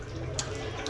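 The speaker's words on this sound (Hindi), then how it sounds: "पानी का बहाव उतना ज़्यादा है नहीं" Weak stream of water running from a bathroom tap in a hotel washroom in Darjeeling, a soft steady trickle heard close up.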